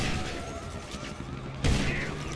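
Gunfire in GTA Online during a free-roam player fight comes as a low rumbling fusillade of distant shots, topped by one sharper, louder blast near the end, with no talk.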